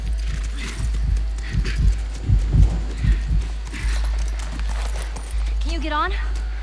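Horse hooves clip-clopping in The Last of Us Remastered on PS5, a series of heavy, close hoofbeats in an uneven walking rhythm over a low hum, with a player talking over it.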